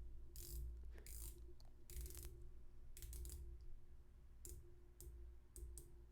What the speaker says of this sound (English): a 60-click unidirectional ceramic bezel, which sounds good